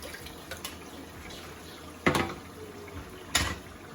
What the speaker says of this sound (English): So I'm going to rinse this.